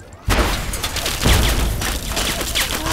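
Rapid bursts of gunfire in the video game Fallout 3, loud and dense, with booming impacts packed into a short, continuous barrage.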